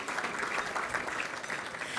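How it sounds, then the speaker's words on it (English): Applause from the audience at an award show, a soft, steady patter of many hands clapping at some distance, continuous and fairly faint throughout. "Yes, applause."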